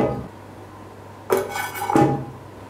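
A metal lid clanks onto a beer-brewing pot in two quick contacts about half a second apart, a sharp clatter and then a ringing settle, close and clear over a low hum.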